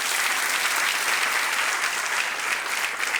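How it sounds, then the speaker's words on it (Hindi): Studio audience on the Hindi quiz show Kaun Banega Crorepati applauding in a dense, steady roar of many hands, loud and sustained throughout with no clear speech. "इन सब के लिए तालियां बज जाएं।"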